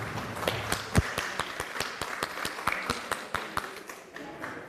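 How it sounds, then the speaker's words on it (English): A live audience at a stamping and card-making event claps in a round of applause, a dense run of sharp hand claps with steady rhythm, fairly close, with no talk over it. "Round of applause."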